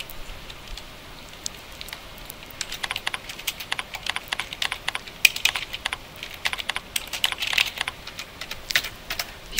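A computer keyboard is typed on in irregular bursts of soft, close key clicks, quiet at first and then quicker and denser, with no talking.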